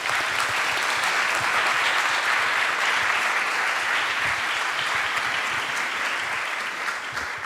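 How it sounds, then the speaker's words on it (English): A conference audience applauding after a panel session on cultural heritage and peace, dense sustained clapping from a large crowd filling the hall evenly, loud and continuous with no speech over it. "Rightly deserved applause."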